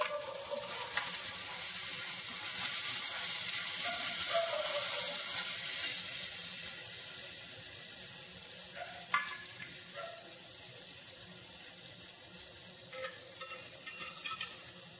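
Tomatoes frying in a pan for a prawn curry, stirred now and then, a steady sizzle with scraping spoon strokes and occasional clinks, close and moderately loud, no talking.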